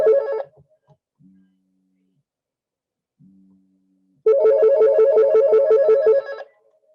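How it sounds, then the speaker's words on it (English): A cell phone ringtone rings loudly during an online class meeting, one short burst at the start, then a longer melodic repeating ring after a quiet gap with brief faint tones. "Hold on, I don't shut off my phone."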